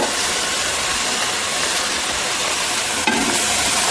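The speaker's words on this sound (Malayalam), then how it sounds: "അതിൽ ഇട്ട് നല്ലപോലെ വറുക്കാം." A kilogram of squid with fried onions sizzles and frys in a pan while being stirred, giving a steady, close crackling hiss with a brief scrape of the spoon near the end.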